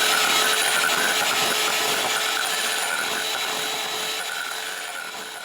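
An electric hand mixer beats six egg whites with three added yolks in a bowl, a steady loud whirring buzz that fades slightly toward the end, with no talking.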